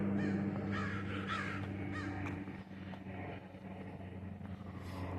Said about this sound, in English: Those are Maggie's birdie friends that are chirping in the background too.